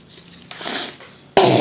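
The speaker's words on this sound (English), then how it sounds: "sorry, I have a cough." Two sharp coughs from one person, the first dry and broken, the second a loud, harsh burst near the end, with no talk around them.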